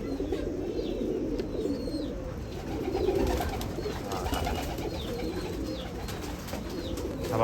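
Pigeons coo steadily and close by in a Nashik Road loft keeping an old Gauran pigeon line, with soft overlapping calls and faint chirps from other birds all through.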